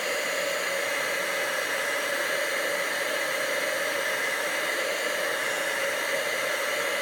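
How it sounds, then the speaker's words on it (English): Heat gun running to melt candle wax, a constant loud close blowing hiss with an even airy whine throughout. "Just warm up the heat gun a little bit."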